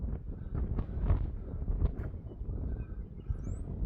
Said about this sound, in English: So, still pretty windy, but I'm going to try this anyway.